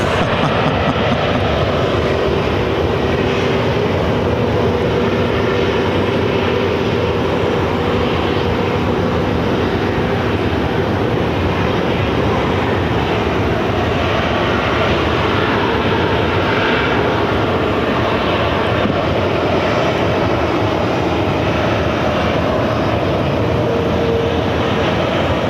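Airplane jet engines roar steadily at Phoenix airport during a runway 8 takeoff, a loud, unbroken wash of engine noise that holds for the whole stretch with no talk.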